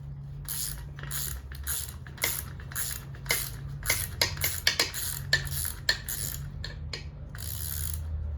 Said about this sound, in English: You put the nut back on there, then you use your tools again.